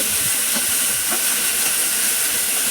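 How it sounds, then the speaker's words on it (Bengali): Spice paste with ginger-garlic hisses loudly in a hot pan as water is poured in, a dense, steady steaming roar close up that fills the whole stretch without any voices. "এই দেখুন, জল ঢেলে মশলাটা কষা হচ্ছে"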